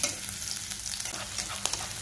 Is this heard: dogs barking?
no